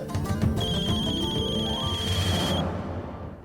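A phone ringtone plays a repeating electronic melody with a sustained high tone, loud and close over a low background hum, then fades away.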